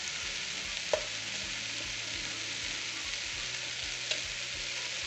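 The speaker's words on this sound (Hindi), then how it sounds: "अब यहाँ पे सारी वेजिटेबल फ्राई हो चुकी है" Mixed vegetables for prawn fried rice fry over a high flame with salt, giving a steady, even sizzle throughout, broken by two faint clicks from utensils.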